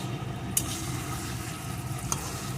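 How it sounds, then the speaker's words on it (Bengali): Prawns stir-frying with spices in a pan give a steady, dense sizzle with two sharp utensil clinks against the pan, and no talking. "এইভাবে এখন চিংড়ি মাছটাও মশলার সাথে কষিয়ে নেব এতে চিংড়ি মাছটা ভাজাও হয়ে যাবে"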